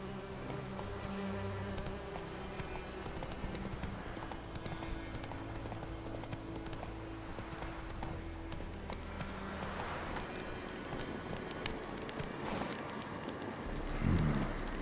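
Hooves of the horse Roach clip-clopping in the video game The Witcher 3, a quiet, steady plodding rhythm over faint buzzing insects and ambient outdoor noise.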